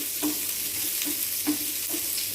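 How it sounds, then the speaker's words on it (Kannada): Garlic, dry red chilies and onions frying in a pan for tomato chutney, with a steady, close sizzle and a few soft stirring scrapes at regular intervals. "1-2 ಬೆಳ್ಳುಳ್ಳಿನ ಸಿಪ್ಪೆ ತೆಗೆದು ಹಾಕಿದ್ದೀನಿ, ಸ್ವಲ್ಪ ಒಣಮೆಣಸು, 1-2 ನೀರುಳ್ಳಿ, ಸ್ವಲ್ಪ ಫ್ರೈ ಮಾಡ್ಕೊಳ್ಳಿ"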